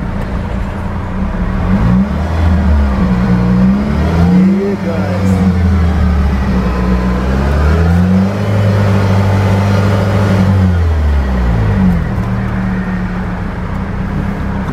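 Car with a 102-horsepower engine accelerating hard, engine droning and revving with rising and falling pitch sweeps, loud and close throughout, voices talking over it.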